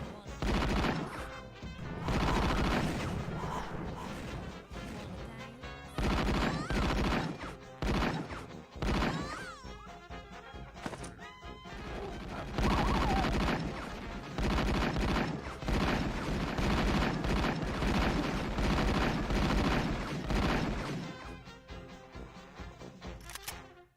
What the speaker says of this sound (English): the Tommy gun here completely replaces the single pistol